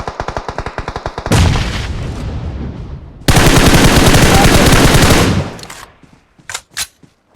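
PUBG Mobile gunfire: a rapid string of single shots, then two long loud bursts of automatic fire, ending in a few scattered distant shots.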